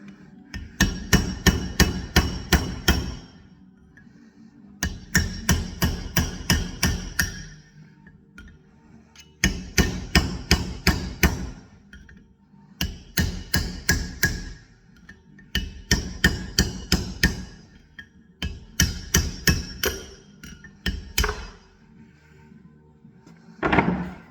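A chisel hammered around the edge of a worn grub ball joint on a Land Rover Defender TD5, with repeated fast volleys of sharp metallic blows separated by short pauses, loud and close.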